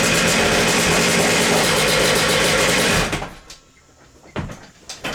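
Racing dirt bike engine fitted in a homemade mini street quad, running loud and steady for about three seconds before dropping away to a low idle with a couple of brief revs near the end.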